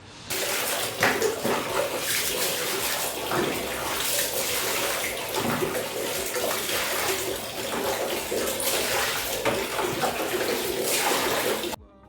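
Clothes soaked in Surf detergent water are washed by hand, giving a steady, close splashing and sloshing of water that runs continuously with no pauses for about twelve seconds.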